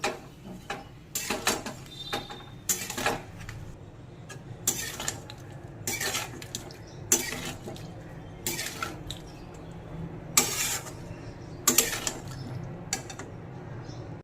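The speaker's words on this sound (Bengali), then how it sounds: "এবার ভালো করে নেড়ে সব মিশিয়ে দেবো" Potato and cauliflower curry being stirred in a pan, a metal spoon clinking and scraping against the pan in repeated sharp knocks, close and fairly quiet, with no talk.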